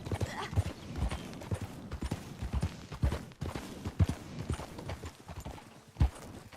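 Horse hooves gallop in a steady, rhythmic clip-clop in Red Dead Redemption 2, moderately loud and continuous over a faint rumbling background.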